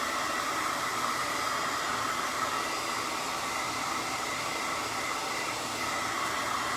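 A handheld hair dryer blows steadily on craft bumblebees, a continuous loud whooshing roar that holds even throughout without pause.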